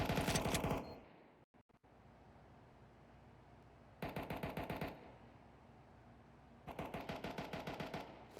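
Rapid automatic gunfire rattles in two loud bursts during a Counter-Strike match, with a short Mac-10 or Deagle gap of quiet ambience between them and a final long burst at the end.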